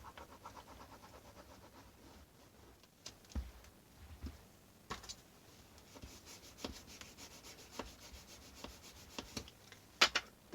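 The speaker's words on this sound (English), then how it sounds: "burnish it down" Rubbing of a tool or fingers burnishing paper down onto a scrapbook album page, a soft, faint, close scraping with a few sharper strokes and taps, heard alone without talk.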